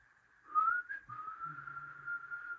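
A single person whistles a slow, wavering melody of a song, a thin, steady tone lasting a couple of seconds with a slight rise in the middle and no talking.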